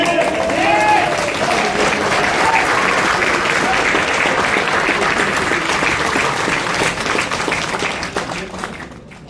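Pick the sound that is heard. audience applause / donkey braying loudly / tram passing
audience applause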